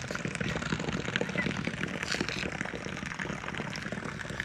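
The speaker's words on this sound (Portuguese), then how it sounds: "Tá caindo água aqui, ó." Water falling and running into a tank at a campsite, a steady, close, continuous rush and splash with no pauses.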